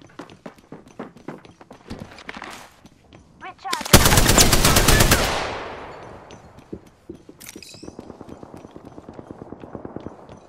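Gunfire in Apex Legends: scattered single shots and clicks, then a loud sustained automatic burst that trails off into echoing debris, followed by rapid footsteps and further shots.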